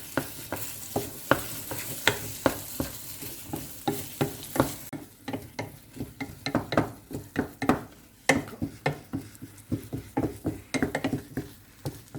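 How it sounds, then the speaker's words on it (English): Semolina halwa being stirred in a pan over medium-high gas, a spoon scraping and patting repeatedly in an irregular, steady rhythm against a soft sizzle of butter, close and fairly loud with no talking. "So yeah, just keep stirring it."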